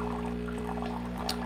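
Water pouring from the spout of a Breville Barista Pro espresso machine, a short, steady stream heard over the machine's constant low mechanical hum, close and moderately quiet.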